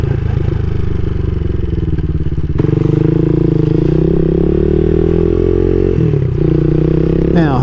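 CSC SG250 motorcycle fitted with a MotoCult Stage 4 exhaust, ridden on a gray morning, engine loud and close with a throbbing rumble that rises and falls through throttle changes and gear shifts, plus some mechanical clatter.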